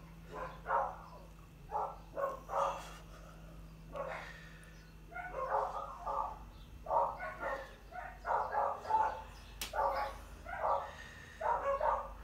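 Neighbours' dogs bark in repeated bursts of several barks at a moderate distance outdoors, with short pauses between volleys and a low background hum.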